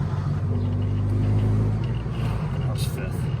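2000 Honda Civic Si driving and shifting into fifth gear, a steady low engine and road rumble from inside the car that drops and eases midway, with people talking over it.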